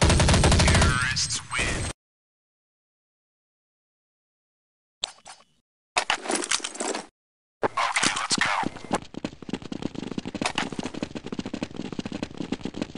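Counter-Strike gunfire crackles in sharp repeated shots, with a loud burst at the start, then silence, then resuming rapid close firing.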